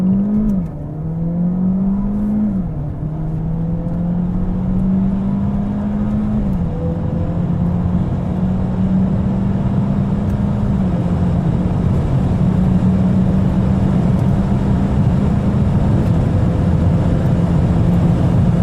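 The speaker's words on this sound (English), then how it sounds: "Let's hit the throttle and see on this test track straight." A Peugeot 508 PSE hybrid pulls hard down a test track straight. Its engine note climbs in repeated rising sweeps, each gear change bringing a brief dip, all over a loud, constant road and wind roar with no talking.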